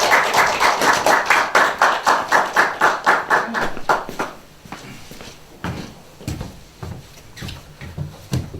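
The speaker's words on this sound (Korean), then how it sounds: "나오실 때 큰 박수로 환영해 주시기 바랍니다." A small audience at an academic forum gives loud, rhythmic hand clapping that fades after about four seconds into a few scattered claps and room noise.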